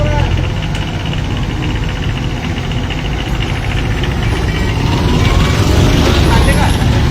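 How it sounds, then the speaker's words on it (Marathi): Congested street traffic in Mehkar's Mali Peth area during municipal street cleaning: a dense, continuous rumble of idling and slowly moving cars, buses and trucks, steady and close throughout, with voices talking underneath. "ट्रॅफिक जाम होत आहे तिथं थोडीफार"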